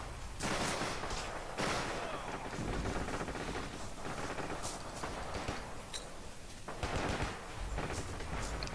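Gunfire in the Forgotten Hope 2 multiplayer game, a dense stretch of rapid shots and machine-gun bursts, loud and continuous with louder cracks at intervals.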